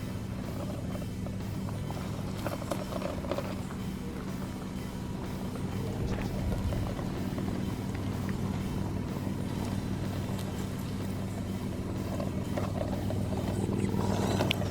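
RGT 136161 1/16-scale 4WD RC crawler truck driving, with a low, steady, quiet electric motor hum and faint gear whine continuing evenly throughout, plus light rustling and no talking.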